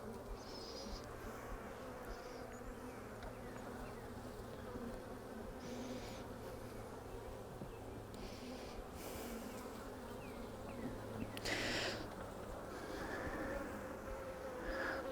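Honey bees hum steadily from an open hive during a brood-frame inspection, a continuous close buzz with individual bees droning past now and then.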